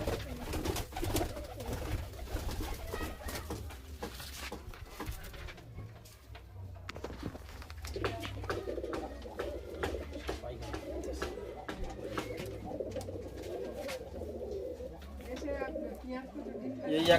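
Large, long-bodied pigeons of the Kalshira and Fulshira kinds coo repeatedly at close range, a continuous low rolling murmur under frequent talking from people nearby.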